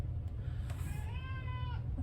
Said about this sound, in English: That would be Duke, who's meowing at us.